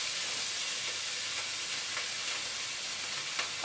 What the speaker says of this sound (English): Watch that sizzle away